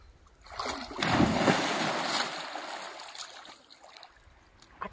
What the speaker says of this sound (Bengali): আমি ডুব দিচ্ছি